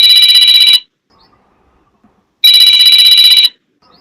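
A mobile phone rings loudly in two bright electronic bursts, each about a second long, separated by a short silence, with no talking.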